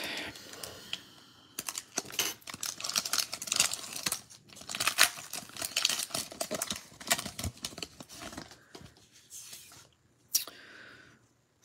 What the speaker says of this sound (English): Let me move some cards around.